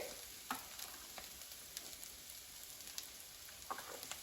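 Faint, steady sizzle of seasoned cabbage frying with bacon in a pan, with soft scattered scrapes and ticks as it is stirred, quiet and continuous with no voices.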